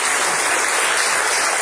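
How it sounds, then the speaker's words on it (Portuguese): Congregation applauding during a church service, a loud, dense and continuous wash of clapping hands filling the room with no voices. "Aplauda o Senhor pelo casal da videira."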